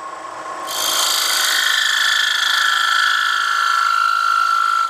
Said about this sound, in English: You can hear the wood is screaming a bit because it's getting thin.